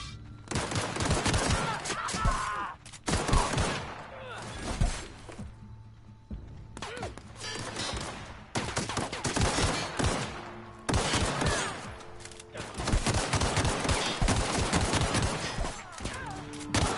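Sustained bursts of assault rifle fire in the video game The Outer Worlds, dense and loud, broken by short pauses, with impacts and shattering mixed in and voices talking underneath.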